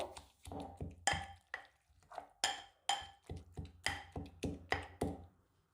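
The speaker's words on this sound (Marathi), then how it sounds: "आपण आता हे टोमॅटोही शेंगदाण्यांसोबत चांगले ठेचून घेऊ" Tomatoes being pounded with peanuts for a tomato chili thecha, heard as a close run of roughly a dozen rhythmic thuds and crushing knocks about half a second apart, with no voices.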